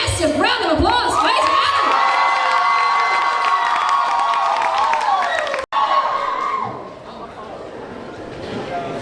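A large audience at a cosplay competition cheers and whoops loudly in a sustained roar with shouts and applause, cut off abruptly and then continuing as a lower, thinner crowd murmur.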